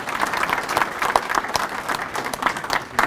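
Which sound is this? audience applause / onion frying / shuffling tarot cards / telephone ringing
audience applause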